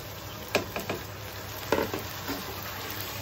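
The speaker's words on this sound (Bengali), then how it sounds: "এখন পেঁয়াজটা একটু ভাজা ভাজা করে মাটনটা এটার মধ্যে দিয়ে দিব।" Marinated mutton goes into a pan of browned fried onions, sizzling quietly under a constant low hiss, with a few sharp clacks from stirring near the start and middle.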